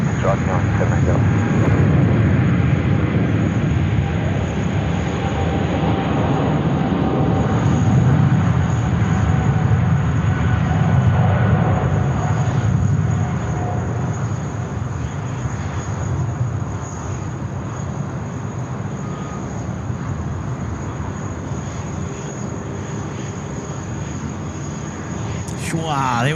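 A passenger aircraft taking off from Sydney Airport, a loud sustained engine roar that holds strongly, then eases slightly as it climbs away, heard from a distance with a continuous broadband rumble.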